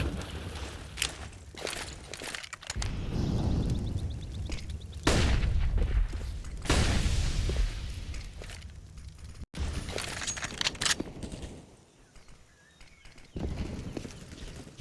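Pistol gunfire in a Counter-Strike match on the Ancient map, ARCTIC vs. ATK at the IEM Road to Rio 2022 Americas RMR, as scattered sharp shots and impacts with busy in-game noise throughout.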